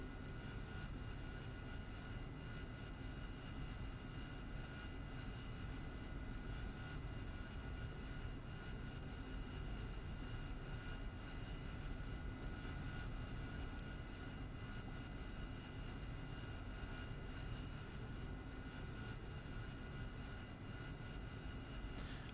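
Steady, even roar of an aircraft jet engine idling in the DCS World flight simulator, a constant broadband hum that holds unchanged with no talking.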